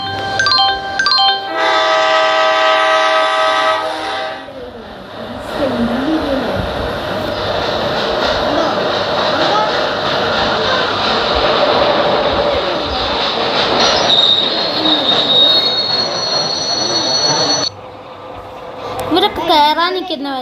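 A train pulls through a railway station with people waiting on the platform. A horn-like tone opens, then a long roar of rolling wagons and squealing wheels follows, under scattered talk, before the noise drops away near the end.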